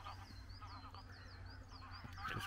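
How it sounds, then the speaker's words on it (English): Geese honk repeatedly at a nature reserve reservoir, a series of moderately distant, faint calls in a loose rhythm over soft outdoor background noise. "There's a couple of geese down here"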